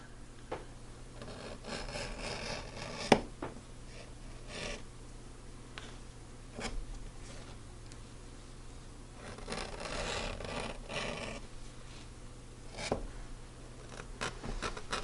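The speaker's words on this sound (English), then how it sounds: "Take my edge beveler." Leather edge beveler trimming the edge of a sewn leather EDC pocket organizer, giving soft scraping strokes with a few sharper clicks, close and quiet with no talk.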